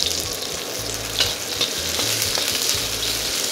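Onions frying in hot sesame oil make a steady close sizzle with a faint bubbling crackle, continuous and alone, without any voices.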